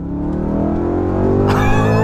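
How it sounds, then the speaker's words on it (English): A 2007 Audi RS4's high-revving V8, with an 8,000 rpm redline, pulls steadily and loudly up through the revs, heard close and alone with a rising harmonic growl. "this V8 sounds absolutely intoxicating"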